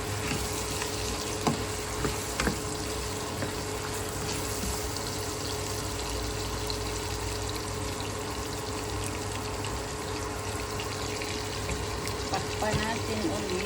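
Sautéed liver adobo stirred in a pan, giving a steady frying sizzle with occasional scraping and clinks throughout, under some talk.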